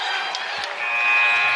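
A buzzer sounds to end the first quarter at a high school basketball game between Vero Beach and South Fork, a sustained electronic tone rising over crowd noise in a gym.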